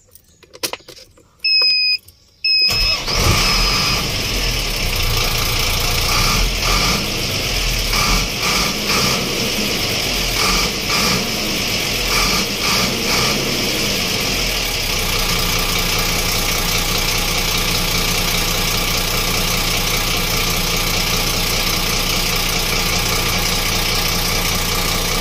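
A vehicle engine with a non-working RPM meter catches after a few quiet moments, then idles steadily and loudly close by with a medium, slightly knocking rumble for the rest of the stretch.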